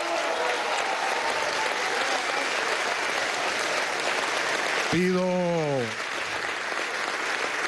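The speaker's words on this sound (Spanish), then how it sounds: "Pido igualmente un aplauso" Sustained crowd applause fills the National Assembly of Venezuela, a dense steady wash of clapping with a voice speaking briefly over it near the end as the clapping eases slightly.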